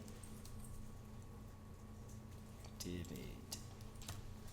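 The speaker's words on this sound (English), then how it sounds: "Just type lymphoma and then a space and then activated" A search term typed on a computer keyboard, producing a short run of light key clicks over a steady electrical hum and room noise, faint and close, with a voice talking.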